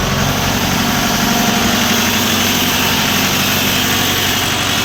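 A steady, loud four-cylinder Shifeng 404 tractor engine idles close by with a constant low rumble and mechanical vibration, running evenly throughout with no voices.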